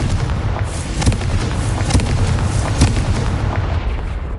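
Confringo spell explosions in Hogwarts Legacy boom loudly in a dense, continuous barrage of bursts and rumbles with no pause.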